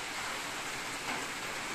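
Heavy rain pours down steadily at night in late June, a dense, continuous hiss of drops striking surfaces that swells slightly midway as the shower builds toward a downpour, with no voices.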